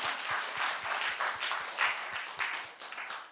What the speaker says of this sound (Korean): 박수 한번 드리겠습니다. 좀 크게 좀 주세요.